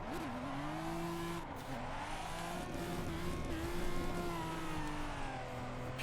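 A Toyota Supra MK4 drift build slides around Spa in Assetto Corsa, its engine holding a high wavering rev with pitch dips and swells while tires squeal continuously for several seconds, loud and close.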